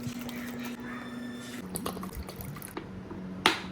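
Rice sloshing in water in a bowl during washing, with close drips and small splashes, a louder splash near the end.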